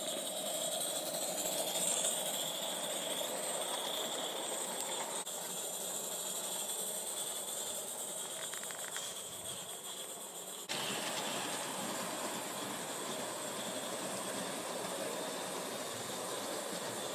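A heavily modified Aristo-Craft live-steam garden-scale model locomotive runs outdoors after strong wind. It gives a steady close hiss and mechanical running noise throughout, with a slight shift in tone partway through and no talking.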